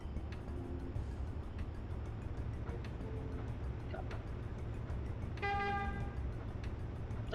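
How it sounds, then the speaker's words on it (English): A forklift horn in the Shenmue video game sounds one short, faint toot late in the clip above a steady low rumble of background noise. "I think that was me honking"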